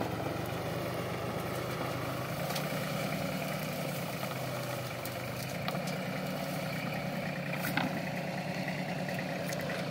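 A New Holland Simba 30 HP tractor runs a rotavator, giving off a continuous, even engine drone with a constant rumble at mid distance and no voices.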